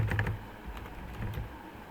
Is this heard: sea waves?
no